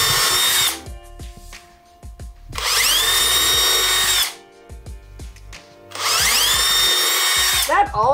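A power drill whines loudly in three long bursts, grinding into a school bus floor, with short quieter pauses between them.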